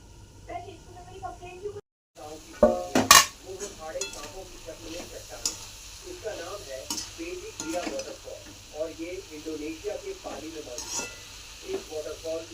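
Cabbage with green chillies steaming in a covered pan, a soft sizzle with a lid clank early on, under someone talking throughout.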